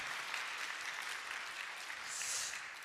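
A congregation at a Sunday church service applauds steadily after a musical performance, the clapping continuous and moderately distant, with no voices over it.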